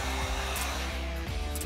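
A heat gun blows a steady, even airflow hum as it gently warms a dent-damaged BMW 325i body panel before repair, the continuous whir holding unbroken and fairly close throughout.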